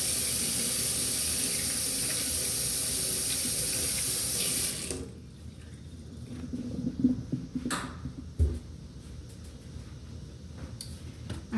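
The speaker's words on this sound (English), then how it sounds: "Wash my hands." A sink tap runs loudly with a steady hiss while hands are washed, then it shuts off and quieter splashes, drips and small handling sounds follow.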